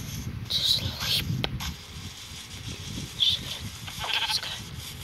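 A few short bleats from a sheep in a video game ring out amid mechanical clicks and rattling, with a low muffled rumble underneath.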